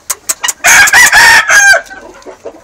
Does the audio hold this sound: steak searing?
no